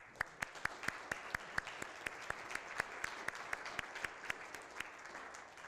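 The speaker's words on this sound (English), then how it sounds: "we should give them a round of applause" Applause at a community meeting is heard as a fairly quiet, sparse crowd clapping with a few sharp, distinct claps standing out, continuous throughout.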